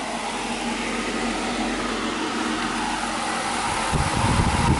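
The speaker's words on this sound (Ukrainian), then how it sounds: "Включився дальній вентилятор" An automatic cooling ventilation fan in a greenhouse runs with a loud, steady whirring drone, and a deeper rumble swells in near the end as the airflow picks up.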